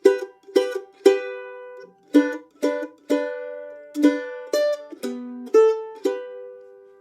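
A plucked mandolin plays the Jingle Bells melody slowly in bright two-note double stops, each note attacked crisply and ringing briefly, about a dozen strokes with no talking.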